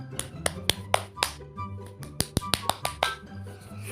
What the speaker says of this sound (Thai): ขอเสียงปรบมือให้หน่อยครับทุกท่าน